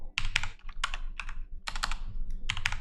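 Quick bursts of keystrokes on a computer keyboard while code is typed, coming in four clustered runs with short pauses between them, close and fairly quiet, with no voices.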